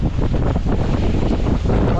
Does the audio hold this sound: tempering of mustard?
no